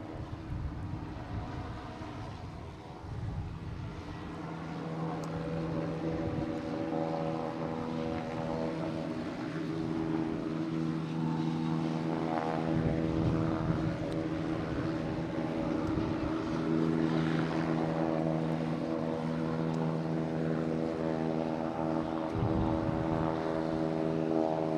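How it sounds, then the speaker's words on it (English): A Delta Embraer E175 regional jet on arrival at Boston Logan from Charleston, with a steady engine drone and whining tones that hold and slowly shift while the aircraft passes at a moderate distance. "we have Delta coming in from Charleston. E175, flight 5670."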